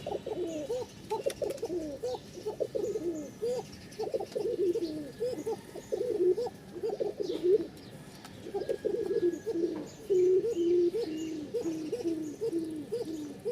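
A male pigeon coos close by in a long, thin call, repeating rhythmic coos in steady runs with a brief pause midway.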